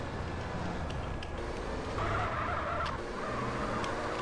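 A fast, original old car from GTA San Andreas, a tuned Skyline-style build, drives down a city street with a steady engine roar and brief tire skids throughout.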